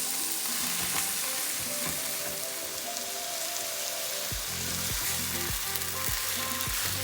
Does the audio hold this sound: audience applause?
no